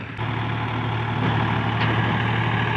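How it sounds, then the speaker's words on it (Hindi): A tractor rolls in and idles nearby, its heavy engine holding a loud, steady low rumble throughout with no voices over it. "और ये आ रहा है अपने इलाके का अलगाजी ट्रैक्टर।"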